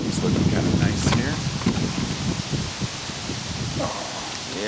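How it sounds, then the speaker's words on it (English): Wind gusts outdoors as a broad rushing buffet against the microphone, with a person talking through it. "I'm kind of windy here."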